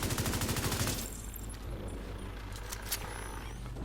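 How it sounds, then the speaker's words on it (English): A squad's guns fire together at an enemy in a video game, a dense rapid burst of automatic shots that cuts off after a second, leaving scattered fainter pops and a rumbling background. "We're all firing at him."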